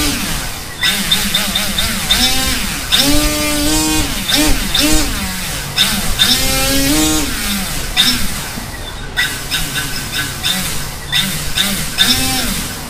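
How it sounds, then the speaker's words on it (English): Two Sunnysky 3108 brushless motors driven by AFRO 30 amp ESCs rev up and down: a buzzing, close electric whine swoops rapidly in pitch with repeated throttle bursts, loud and continuous throughout. "So no matter how fast I'm moving that throttle, I can't get them to go out of sync."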